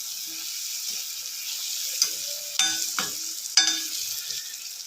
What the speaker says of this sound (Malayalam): അതിലേക്ക് നമുക്ക് കുറച്ച് വിനാഗിരി ചേർത്ത് കൊടുക്കാം. നന്നായിട്ടൊന്ന് ഇളക്കുക.